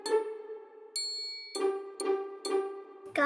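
A video meeting chime rings as a participant leaves, a series of bright ding tones struck in quick succession, each ringing briefly, clean and alone.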